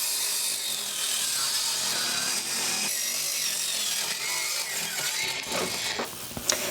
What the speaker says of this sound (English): So as I'm cutting through this wood here, I'm getting the not so fun realization that this must be pressure treated